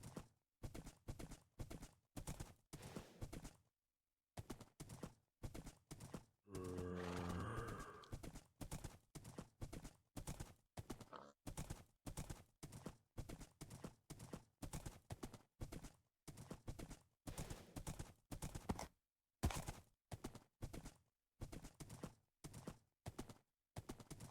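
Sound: horse in the video game Minecraft

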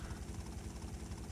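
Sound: helicopter in video game GTA Vice City

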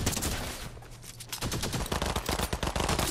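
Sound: gunfire from a video game

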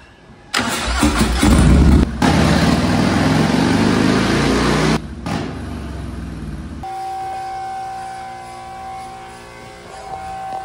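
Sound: Stage 2 Harley-Davidson 117 engine revving during tuning run

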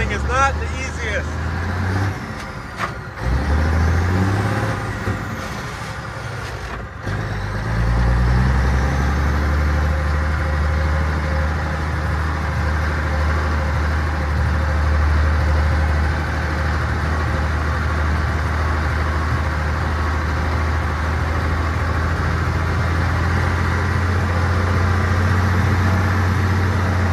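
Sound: Mack B61 truck engine idling and driving

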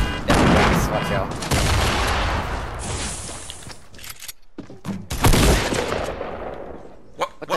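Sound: gunfire in the video game Fortnite

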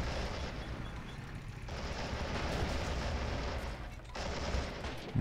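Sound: T-60 tank firing in video game Men of War: Assault Squad 2

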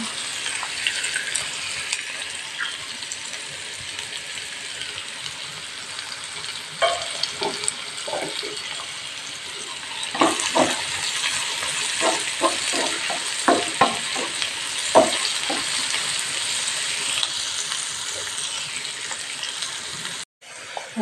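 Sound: chopped green chillies frying and being stirred for liver fry

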